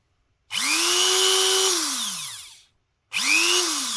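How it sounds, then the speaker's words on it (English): A Dremel rotary tool grinds against a 1938 British bronze penny being shaped into a ring, whining loudly at full speed for about two seconds, winding down, then starting up again close by. "And my Dremel's on the way out, I think. It's either full throttle or nothing."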